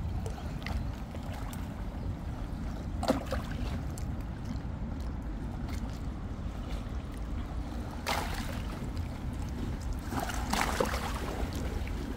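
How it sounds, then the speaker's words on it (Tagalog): Continuous rushing water and wind noise around a boat, with occasional louder splashes of waves against the hull. "Malakas ang alon."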